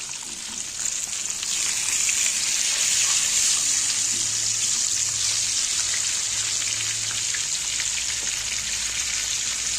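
Fish sizzling steadily in a small amount of hot oil in a pan as the pieces are turned to the other side, a loud, even crackle that holds throughout with no talking.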